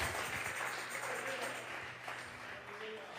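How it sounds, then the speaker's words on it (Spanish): Congregation clapping hands during a Sunday church service, a steady dense wash of palms sustained throughout at moderate distance, with a voice faintly present underneath. "Dele fuerte esas palmas al Dios de la gloria"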